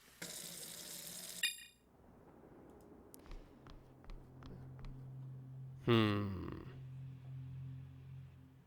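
Running tap water pours into a sink in a video game, a steady broadband rush lasting over a second at the start, followed by quieter clicks and a brief low swell.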